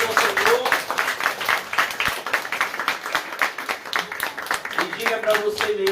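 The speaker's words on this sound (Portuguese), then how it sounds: "Salva de palmas ao Senhor." Church congregation clapping together: a sustained run of brisk, closely spaced hand claps, moderately loud, with voices talking over it now and then.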